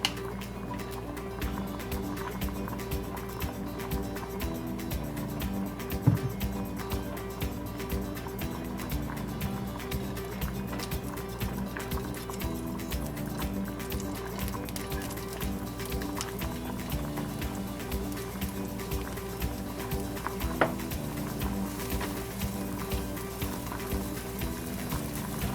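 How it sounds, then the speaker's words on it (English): A pot of salted water with sweet potato inside boils at a steady, soft bubbling simmer, with a couple of faint clinks and no talking. "here I have the sweet potato boiling"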